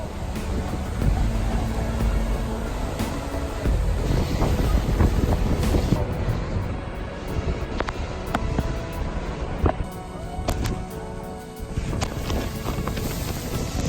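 Niagara's American Falls roaring as a steady, loud broadband rush of falling water, heard up close from the path near the boats, with gusts of wind buffeting the microphone and no speech.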